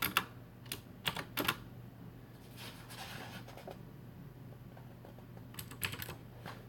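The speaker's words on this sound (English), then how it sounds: "Sorry about the loud keyboard." Fast clattering keystrokes come from a Logitech G710 gaming keyboard, a loud mechanical keyboard. Bursts of typing sit close to the microphone at the start and near the end, with softer, sparser tapping between them and no speech.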